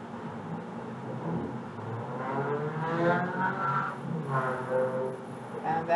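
A car passes by outside, its engine and tire noise swelling and fading twice at moderate distance, fairly faint and alone without talk.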